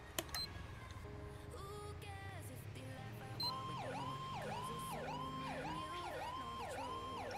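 Ambulance siren in a roleplay game, starting with mixed game noise and tones, then a loud, steady wail cycling rapidly up and down in a regular pattern that fills the rest of the clip.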